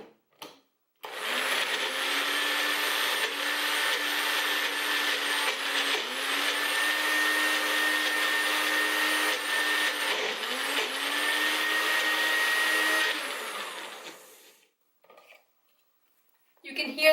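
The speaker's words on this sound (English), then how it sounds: "You can hear that the machine really struggles with thick foods." A Magic Bullet blender whirs loudly and continuously for about twelve seconds, its motor pitch sagging and labouring as it struggles through thick, chunky food, then winds down and stops.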